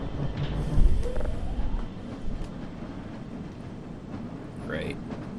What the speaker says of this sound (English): Okay, onward, trusty train.